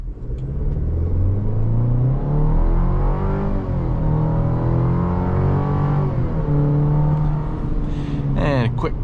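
A 2026 Chevrolet Colorado pickup accelerates at full throttle, the engine note climbing repeatedly in pitch and dropping back at each gear change, loud and close from inside the cab, ending with a few faint clicks.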